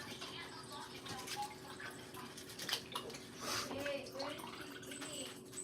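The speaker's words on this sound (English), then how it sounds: "Let me just get a quick rinse going." Water running from a tap for a quick rinse in a home kitchen, a steady close splashing stream with scattered drips and a faint background voice.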